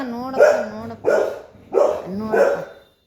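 A puppy gives four short, close barks at a steady pace, each one sharp and slightly whiny, with a little talk alongside.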